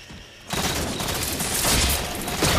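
Halo 4 multiplayer battle: a grenade blast close by followed by a sustained loud barrage of gunfire and bursts, dense and continuous without pause.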